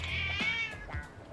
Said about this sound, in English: Cat's pissed!